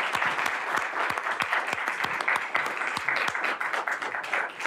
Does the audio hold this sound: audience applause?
yes